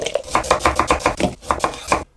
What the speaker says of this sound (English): We're going to roughly chop a couple red onions